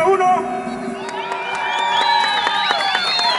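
Crowd at a jaripeo rodeo in Rancho Viejo, San Miguel de Allende, Guanajuato, cheering and whooping with scattered applause, steady and fairly loud throughout, with shouts rising over the general noise.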